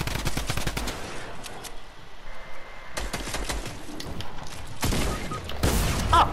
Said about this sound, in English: Just start spamming the drum gun